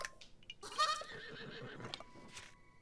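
A horse neighs in Zelda: Breath of the Wild on the northern Tabantha plains, a brief whinny rising in the middle of the clip among faint game sounds, with no speech over it.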